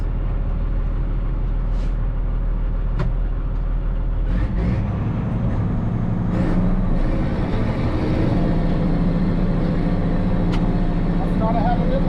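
A farm tractor working a field during tillage, with a steady low engine rumble that roughens and shifts partway through, along with occasional clunks and rattles from the machinery, and someone talking now and then over it.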